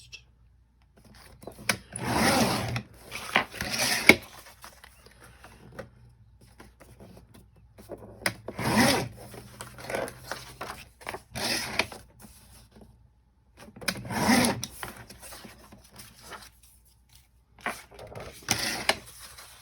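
Cutting a Christmas paper pad with a powered cutter, several separate buzzing passes of a few seconds each with quiet pauses between them, close and fairly loud.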